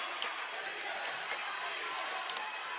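A basketball arena crowd cheers and roars continuously, a dense, steady wall of noise filling the gym, with scattered shouts and squeaking footwork rising from the mass.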